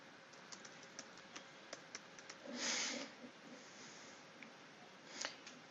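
Quiet keystrokes on a computer keyboard, irregular single taps spread across the clip, with a short burst of rapid typing in the middle and another near the end.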